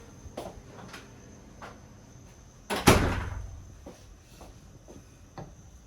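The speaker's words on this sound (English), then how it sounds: "Let me close the door so that's not windy." A door shuts with a single solid thud amid faint background noise and a few light knocks.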